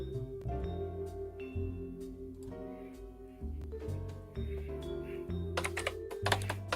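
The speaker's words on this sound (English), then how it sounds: "And that's some loud typing." Loud, rapid typing on a computer keyboard, close and steady with clustered keystrokes, over soft jazz music playing in the background.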